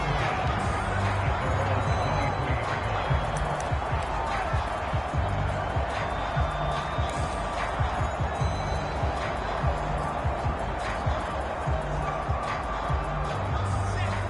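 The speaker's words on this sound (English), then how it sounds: "this crowd has certainly liked what they've seen" Steady stadium crowd roar in a PS4 American football game, a continuous murmur with faint rhythmic thumps and cheers, sitting under ongoing commentary.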